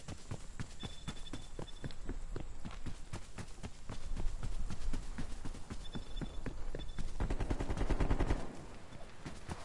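Rapid AK rifle gunfire in a console shooter video game, with dense sharp bursts of shots repeating steadily, close and loud throughout, and brief electronic beeps in between.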